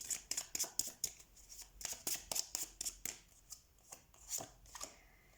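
Tarot cards being pulled and shuffled from a deck during a reading, a rapid series of crisp papery slaps and flicks close by, alone without talk.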